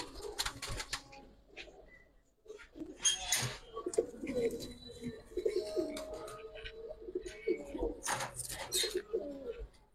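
Giribaz pigeons coo in soft, throaty bursts at close range, with rustling, a few chirps and brief wing movement around them.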